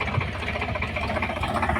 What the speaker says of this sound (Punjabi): ਤੇ ਇਹ ਟਰੈਕਟਰ ਜਿਹੜਾ ਸਾਡੇ ਕੋਲੋਂ ਦੀ ਲੰਘ ਰਿਹਾ ਦੇਖਦੇ ਹੋ